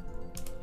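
Quick keystrokes on a computer keyboard enter a network device command: a few soft, close clicks over a low background hum.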